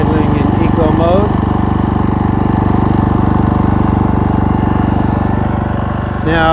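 An iPower 3800 inverter generator idles in eco mode from about a foot away, a loud, steady, dense engine drone that holds evenly throughout, with a brief change in tone at the very end.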